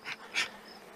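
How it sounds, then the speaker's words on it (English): Honey bees at an open hive give two short, faint buzzing bursts close to the microphone, then quiet hum. "I'm driven to keep my bees happy and not make them mad."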